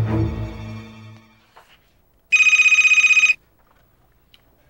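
A telephone bell rings in a single bright trilling burst of about a second, loud and close, after a faint low voice fades out, then quiet.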